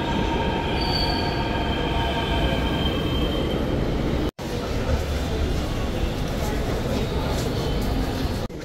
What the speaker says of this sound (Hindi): ऑफिस के मेट्रो स्टेशन पे पहुंच गए नई दिल्ली एयरपोर्ट एक्सप्रेस लाइन